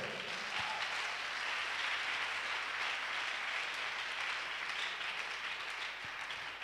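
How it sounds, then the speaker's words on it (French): A church congregation applauding together, a dense, steady wash of clapping from many hands that holds evenly throughout without a break. "Oh, give yourself a big clap."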